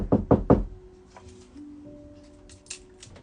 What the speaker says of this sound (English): I knocked on the wall